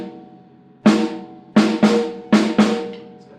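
An undampened snare drum is struck five times in an uneven pattern, each close, sharp hit leaving a sustained ringing overtone that lingers between strokes.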